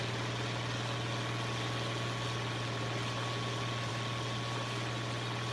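A tractor engine idles in the Farming Simulator 25 video game, a steady low hum with a constant rumbling drone that holds evenly throughout, with no talking.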